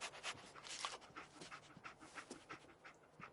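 Dogmeat, a dog in the Fallout 4 video game, pants in quick, steady breaths, close and fairly quiet, with soft game ambience underneath.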